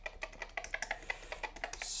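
Steady typing on an old Commodore PET computer keyboard, a brisk even run of close, clear key clacks over a light background hiss, no one talking.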